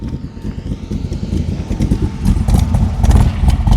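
A 1965 Backdraft Cobra RT4 sports car in Wimbledon white with Guardsman blue stripes drives by, its loud, rumbling engine building steadily and peaking near the end of the pass.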